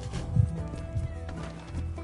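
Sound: horse neighing and hooves, from video game Red Dead Redemption 2

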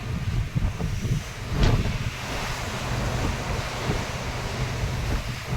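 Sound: ocean waves around cruise ship at sea

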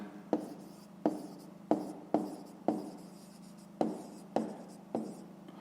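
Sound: writing a math solution by hand

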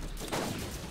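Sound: gunshots from the video game Borderlands

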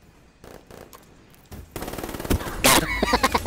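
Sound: sniper rifle gunfire in video game Black Ops III

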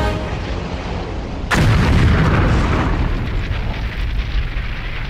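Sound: rockets and bombs exploding

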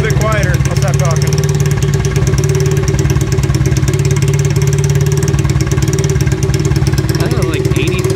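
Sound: engine running through a test muffler

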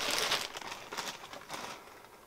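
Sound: gadget being taken out of plastic packaging

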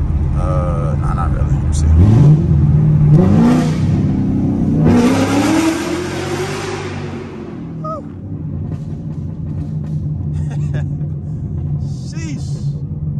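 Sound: C7 Corvette downshifting and accelerating

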